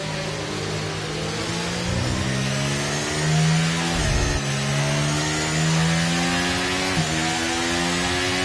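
An F1 car revs hard at the race start in the F1 23 game at the Mexico circuit, its engine note climbing in smooth, rising sweeps punctuated by quick gear shifts, loud and close with no voices.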